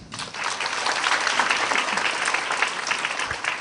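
At a business event for a skincare company, an audience applauds with steady, sustained clapping that swells quickly and then continues evenly for several seconds.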